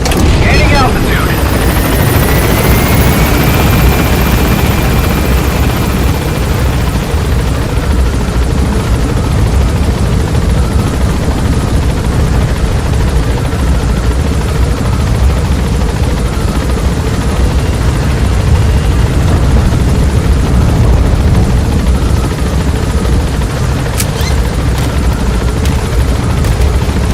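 In the Metal Gear Solid V video game, an extraction helicopter climbs with a loud, steady rotor chop and engine roar close by throughout, a high rising whine early on and brief sharp bursts near the end.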